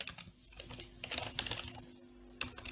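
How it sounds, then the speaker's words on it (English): Someone types on a computer keyboard up close, tapping keys in uneven, fairly slow bursts over a faint electrical hum, with no talking. "my typing is slow because I'm cold"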